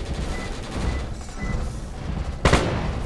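Gunfire in a Roblox shooting game about escaping a haunted ghost train: a steady background of rapid shots ends in one loud, sharp blast near the close, with no talking over it.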